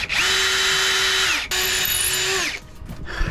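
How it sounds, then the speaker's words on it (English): A power drill bores holes into timber on a boat, two loud close bursts of high whining drilling separated by a brief pause, then quieter handling sounds. "putting holes in this nice timber"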